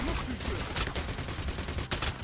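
Gunfire in the heist shooter Payday: The Heist, a dense barrage of rapid shots with sharp bursts near the middle and end, loud and continuous with a voice speaking briefly over it.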